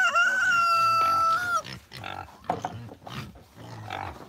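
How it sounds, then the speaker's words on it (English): Pigs at a feed trough give a drawn-out, squealing call and then a string of low, snuffling grunts at close range, with a voice faintly mixed in. "Because pigs are silly and that's what they do."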